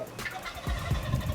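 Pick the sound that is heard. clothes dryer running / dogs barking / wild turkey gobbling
wild turkey gobbling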